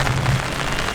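Heavy rain falls in a dense, loud, continuous wash of noise with no distinct drops and no talking.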